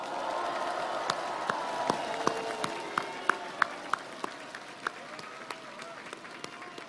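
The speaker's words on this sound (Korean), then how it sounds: "격려 박수 한번 크게 쳐주십시오." A crowd at a presidential candidate's campaign speech in Seoul gives encouraging applause, a broad wash of clapping with scattered sharp individual claps, while a voice carries on faintly over a public-address system.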